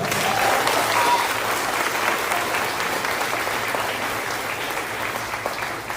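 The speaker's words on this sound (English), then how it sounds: "How about a round of applause for Camilla?" An audience at a sixth grade stepping up ceremony at a school claps for a student, a dense, steady wash of applause lasting about six seconds that slowly tapers off.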